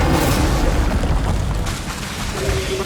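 A loud, booming fire-spell blast erupts in the Hogwarts Legacy video game, a dense roaring burst that fills the clip and slowly settles into a rumbling tail.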